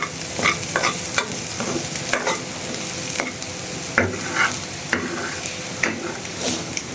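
Jackfruit seeds and dried fish fry in a pan with a continuous close sizzle, punctuated by regular scraping stirs of a spatula roughly every second.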